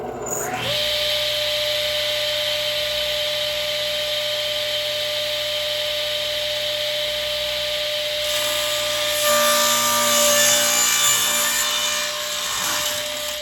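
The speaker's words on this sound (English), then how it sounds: "I make a clean cut at the end of the staves, then clamp them together to cut all to final length." A saw cuts steadily through clamped wooden staves for a whisker pole, trimming them to final length. The steady, close rasp runs for most of the span and turns rougher and louder toward the end.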